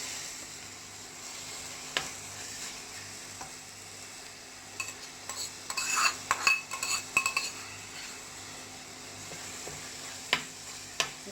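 Onions and masala for a Tamil vanjaram fish kulambu sauté in a pan with a soft, steady sizzle, broken by a burst of metal spoon scrapes and clinks against the pan midway, then a few scattered taps.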